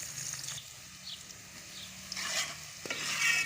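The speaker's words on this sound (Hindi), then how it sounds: "प्याज ब्राउन हो रहा है" Onions frying and browning in a pan, a quiet steady sizzle broken by close spatula stirring scrapes that grow slightly louder toward the end.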